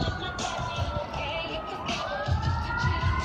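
Emergency vehicle sirens wail through the streets of Las Vegas, a steady rising and falling tone running beneath crowd noise and street bustle throughout.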